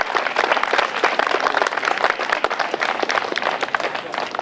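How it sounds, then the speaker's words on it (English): Steady, dense applause from an audience after a performance by the Fresno Audax dancers at a university commemoration, fairly loud and continuous throughout. "Another round of applause."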